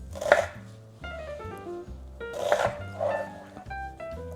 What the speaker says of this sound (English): So we're gonna chop this onion into a few big pieces.